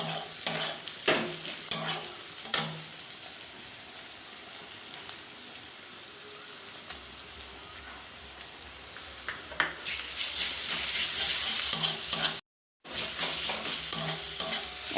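Onions and garlic frying in a pan for a Bengali chicken curry, with a steady sizzle and irregular scraping clicks of a spoon stirring, briefly cut to silence near the end.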